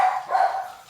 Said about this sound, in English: My dogs don't like it when Adam leaves.